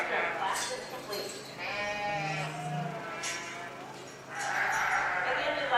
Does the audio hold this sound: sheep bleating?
yes